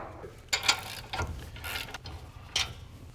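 A ratchet turns out the brake caliper bolts on a 2017 RAM 2500 rear axle, giving a few short, close clicking bursts separated by brief pauses, with no talking.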